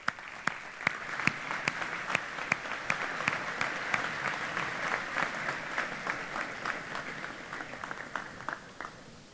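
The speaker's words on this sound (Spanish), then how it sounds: "vamos a recibirlo con un fuerte aplauso" At an Endeavor Uruguay gala, a crowd applauds warmly to welcome an interviewee to the stage, a sustained, fairly soft wash of many hands with a few sharper individual claps standing out.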